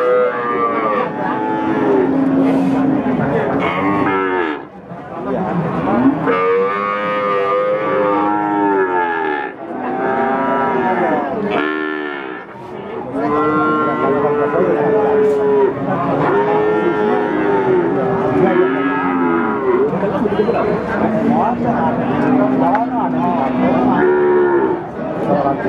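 Cattle moo repeatedly at a breeder cow market in Pati, Java, with loud, drawn-out calls following one another almost continuously, close to the listener and overlapping at times.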